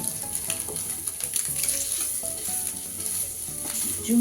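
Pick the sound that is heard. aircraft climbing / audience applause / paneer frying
paneer frying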